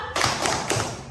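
Primary-school children in a classroom doing a thumb-clap cheer, a short burst of quick overlapping claps and taps, close and moderately loud.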